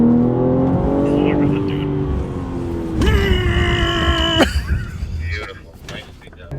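BMW G80 M3 accelerating hard, a loud engine pitch that climbs steadily, then a sharp upshift and a higher rising whine before it fades. People talk over the engine noise.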